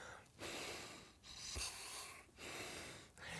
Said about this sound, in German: ein junger Schnarcher, ich habe hier mal einen Test mitgebracht, der klingt so.